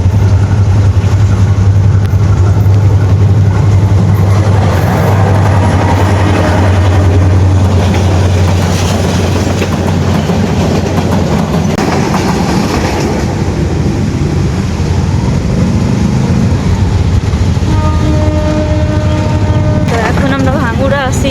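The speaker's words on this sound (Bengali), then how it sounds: "এখন ট্রেন আসতেছে" A train rumbles past at a crossing with a loud, steady roar, and a drawn-out tonal horn blares near the end, with voices faint in the background.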